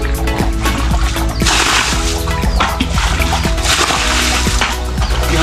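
Water being bailed by hand out of a fish pond of green water, with repeated sloshing scoops and splashes close by, a steady wet churning that continues throughout without speech.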